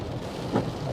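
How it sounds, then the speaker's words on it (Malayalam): Heavy rain pours down steadily as a car arrives home through waterlogged streets in America, a dense continuous wash of noise with a brief louder swell midway. "അടിപൊളി മഴയാണ് കേട്ടോ."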